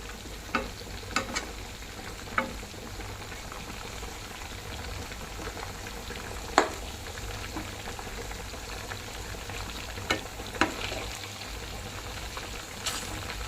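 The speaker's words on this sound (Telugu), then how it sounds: "ఈలోపు చికెన్ జాయింట్లు కూడా వేపుతున్నాను" Chicken pieces frying in a pan, a steady soft sizzle running throughout at moderate level with a few brief clinks of utensils stirring.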